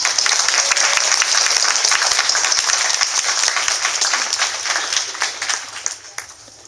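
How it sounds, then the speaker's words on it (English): Audience at a poetry reading at a university coffee house applauds in a dense burst of clapping that holds steady, then thins out and fades over the last seconds. "So if you would all join me in a round of applause for Bruce."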